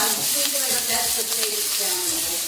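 Onions sizzle and crackle steadily in hot coconut oil in a pan, a close, continuous frying hiss with occasional stirring.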